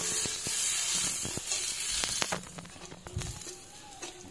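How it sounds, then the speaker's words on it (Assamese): Leafy greens frying in mustard oil in a pan, with a steady sizzle, clatter and stirring scrapes throughout, close and fairly loud with no talking. "তাৰপিছত লৰাই চৰাই শাক ভাজি ল'ম।"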